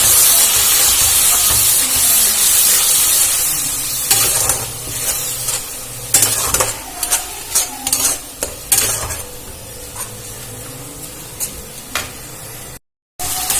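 Blended tomato paste for a Bengali-style chicken curry sizzles in a pan, a continuous close hiss broken by repeated scraping strokes as it is stirred, with no talking.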